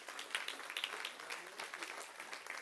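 Congregation applauding in church, a scattered, fairly faint patter of clapping with a murmur of voices underneath, lasting a few seconds.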